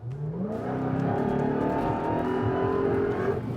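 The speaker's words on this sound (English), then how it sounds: "Between the scream of the supercharger and that eardrum exploding exhaust note" A 2021 Dodge Charger SRT Hellcat Redeye Widebody revs hard. Its supercharger whine rises over a loud, rasping V8 exhaust in one sustained, climbing pull, close and continuous.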